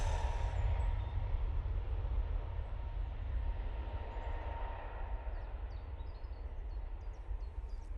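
An airliner accelerating down the runway on its takeoff roll at Manchester Airport, a heavy low rumble and jet roar that is loudest at first and slowly eases as it moves away, with no talk.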